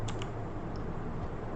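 Brief run of soft keyboard clicks as a command is typed on a computer keyboard, a few quick taps over a low steady background hum, no talking.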